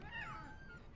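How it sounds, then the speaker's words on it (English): A cat in the video game What Remains of Edith Finch gives a single short, rising then falling meow, faint and heard alone. "Oh, there's a cat!"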